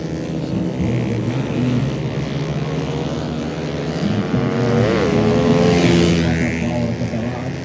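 Racing motorcycles run on a road race circuit at Rantetayo, Tana Toraja, a steady loud engine roar that swells and rises in pitch midway as bikes pass close, with no talk.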